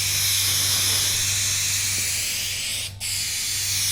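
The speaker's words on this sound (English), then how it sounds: "these Duplicolor nozzles, they kind of like to spray a little bit unevenly" A Duplicolor aerosol can sprays automotive paint in a loud, continuous hiss that holds steady for about three seconds, breaks off briefly, then resumes, with a low hum running underneath.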